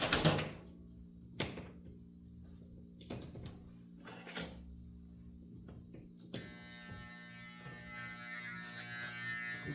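An electric hair clipper is used during a haircut. A few clicks and handling knocks come first, then the clipper switches on and gives a steady, close, buzzing hum.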